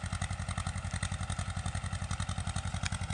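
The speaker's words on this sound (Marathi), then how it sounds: "ट्रॅक्टर चालू आहे" A tractor with a rotavator runs in a farm field, its engine chugging in a steady, rapid, close-up rhythm with faint clatter.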